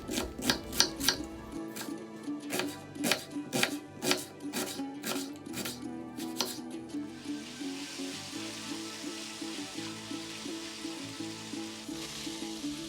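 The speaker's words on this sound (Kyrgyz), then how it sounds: "Ал эми 1-2 чоң пиязды майда кылып чарчы туурап алабыз." Sharp, rapid knife strokes on a board fill the first part while onions are diced finely, a steady run of close, crisp hits that later gives way to a softer sizzle-like hiss with fainter rhythmic taps.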